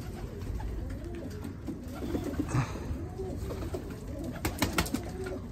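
Pet pigeons coo softly in a loft, low murmuring calls repeating under faint background noise.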